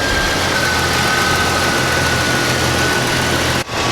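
A 1999 Jeep Wrangler TJ engine runs at a steady idle, close and loud, with a constant low rumble and faint whine before a brief dip near the end.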